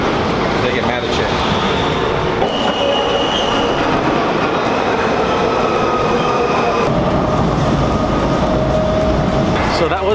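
A Washington DC metro subway train rumbles loudly throughout the ride, with continuous wheel roar, screeching squeals and rattling carriages, and people talk under the din.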